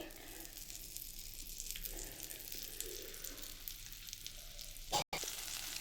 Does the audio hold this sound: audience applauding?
no